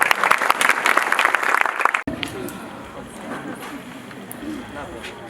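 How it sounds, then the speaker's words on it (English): Dense applause and cheering fill a formal event hall for about two seconds as Lieutenant Colonel Deepak Bista is welcomed to the dais, then cut off sharply into a quieter room murmur. "Okay, so huge applause."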